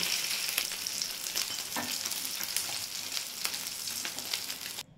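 Katla fish sizzles and crackles steadily as it fries in hot oil in a wok, a continuous close, dense hiss with small pops, cutting off abruptly at the very end.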